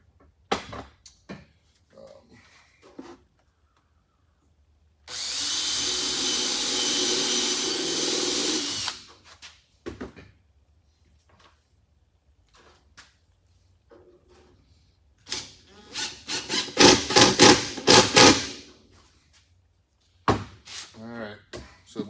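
A staple gun drives material onto a wooden frame for a horizontal beehive build, heard as sharp isolated snaps and a few rapid bursts, with a long hissing stretch early on and quiet gaps between.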